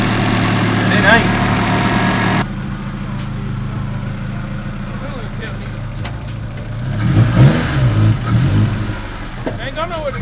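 A hatchback's car engine runs after a cylinder head swap, idling steadily up close, then revving harder in short bursts near the end while people talk over it.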